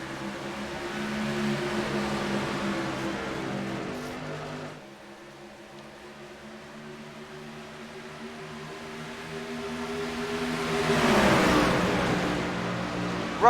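Racing truck engines drone together in a video game race at Talladega, a steady layered hum of several motors that dips briefly, then swells louder as the pack surges forward.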